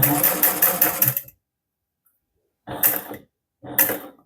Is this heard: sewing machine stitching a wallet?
yes